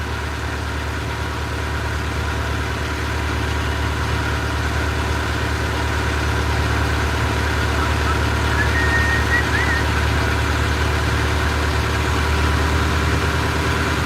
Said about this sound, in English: It'll warm up in here when my engine warms up.